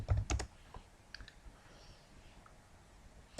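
A computer keyboard clatters through a quick burst of typing as a chart title goes into Excel, then gives a few lighter, scattered taps before going quiet.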